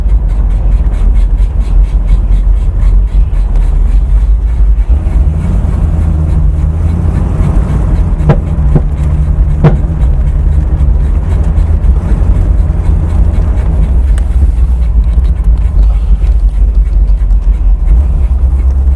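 A Mercedes 450SL engine drones loudly from inside the car at full throttle, a low rumble that dips and rises again through upshifts.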